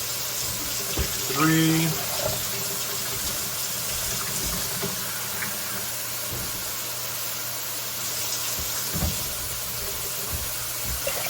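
Tap water gushing steadily into a pot for homemade ramen, a constant close rushing flow that runs the whole time, with a person briefly counting aloud near the start.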